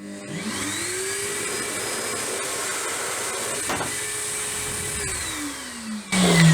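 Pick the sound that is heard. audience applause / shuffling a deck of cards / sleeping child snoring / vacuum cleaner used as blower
vacuum cleaner used as blower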